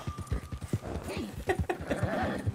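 Horse hooves clip-clopping at a fast pace in the video game Red Dead Online, a quick rhythmic run of hoof thuds with voices talking over it.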